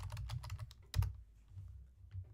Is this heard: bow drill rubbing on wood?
no